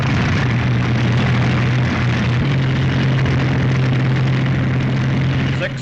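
P-47 Thunderbolt aircraft engines running up, a loud, steady propeller drone with a strong low hum holding throughout, while someone speaks over it.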